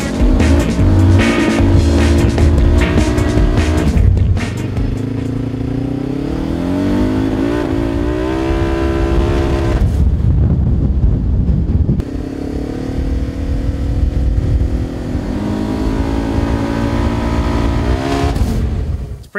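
A Polaris RZR XP Turbo side-by-side running on E85 with an Aerocharger turbo, driven hard with loud, continuous engine roar, repeated revving and accelerating pitch sweeps and brief lifts between pulls, close and dominant without talking.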